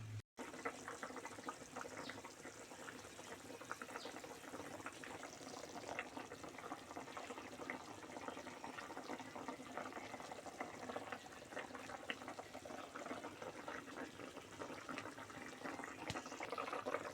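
Water goes into a pan of katla fish curry with potatoes. A faint, steady hissing wash of liquid and gentle bubbling runs on without a break, with no talking.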